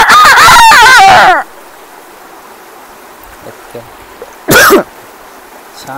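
A man imitates a rooster's crow with his voice, one loud warbling call about a second long, followed by quiet and then a short second vocal burst.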